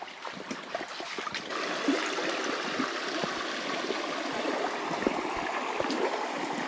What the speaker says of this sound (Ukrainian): тут такий, такий струмок тече